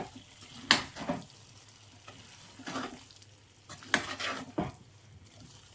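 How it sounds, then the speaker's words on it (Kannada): Spring onions being stirred into fried bread pieces in a pan: a soft sizzle under repeated scraping and clinking of a spoon against the metal pan, in several short bursts with quiet gaps between. "ಈಗ ಒಂದ್ಸರಿ ಮಿಕ್ಸ್ ಮಾಡ್ಕೊಳ್ಳಿ"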